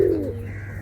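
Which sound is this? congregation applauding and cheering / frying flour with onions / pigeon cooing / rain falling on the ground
pigeon cooing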